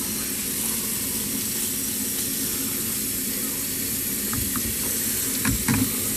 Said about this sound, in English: Now let's rinse out this cyclonic thing.